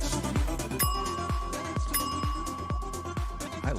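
Bell struck as a sound effect, a repeated metallic ding over a rhythmic thumping music beat, several bright strikes ringing against the track.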